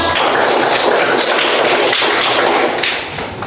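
Pupils in a Catholic religious education classroom applaud a classmate, a loud, close burst of many hands clapping in a continuous patter that fades out at the end.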